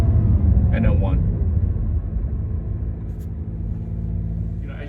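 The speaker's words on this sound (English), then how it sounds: "But you hear it braking, downshift 3, 2, and then 1." A 2022 Acura NSX Type-S braking and downshifting through three gears, heard as a steady low engine and road rumble with slight shifts in tone, close and fairly loud throughout.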